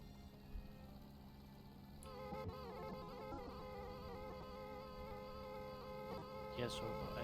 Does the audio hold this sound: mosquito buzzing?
yes